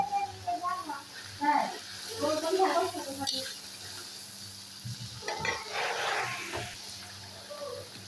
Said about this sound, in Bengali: অল্প একটু পানি দিয়ে দিলাম মশলাটা কষানোর জন্য